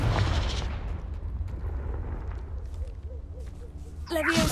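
A Confringo blast spell in Hogwarts Legacy goes off as a loud, booming explosion at the start, then a long rumbling roar decays under ambient game sound, with a sharp new burst near the end.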